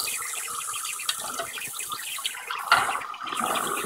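Bath water for Elwood sloshing and splashing in a tub, a steady wet wash broken by a few sharper splashes, fairly close and moderate in level, without talking.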